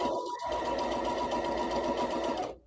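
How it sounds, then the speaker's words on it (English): A sewing machine runs steadily in a continuous whirring stitch for a couple of seconds, sewing a quarter-inch seam on a quilted table runner, then stops abruptly. "let me switch over to my sewing machine here"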